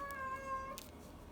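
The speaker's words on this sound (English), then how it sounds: "My cat, Lumos." A house cat gives one drawn-out, tonal meow, close but fairly soft, in an otherwise quiet room during a recording session.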